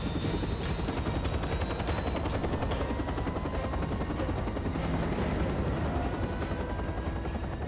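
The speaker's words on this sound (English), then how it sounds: "All right, I'm gonna hop in this chopper." Helicopter taking off and flying in a video game, a constant dense rotor thrum and whine that holds steady and loud throughout, with no talking.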